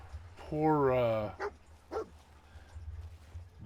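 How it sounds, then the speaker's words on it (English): Dogmeat, the dog in Fallout 4, lets out a drawn-out whimpering whine followed by a couple of short yelps, close and fairly loud over quiet game ambience. "Poor doggy."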